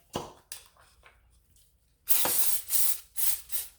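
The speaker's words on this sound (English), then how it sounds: "we are going to slightly spray the pan with some olive oil" A few short taps and clicks, then several sharp hissing bursts of olive oil aerosol spray onto a pan, close by and loud.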